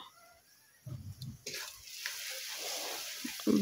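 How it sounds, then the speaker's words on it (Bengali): Masala of chili powder and turmeric frying and being stirred in a pan while making a jackfruit and prawn curry, giving a steady close sizzle with scraping stir strokes that grows louder toward the end. "ভালো করে তারপরে মশলাটাকে কষিয়ে নিলাম"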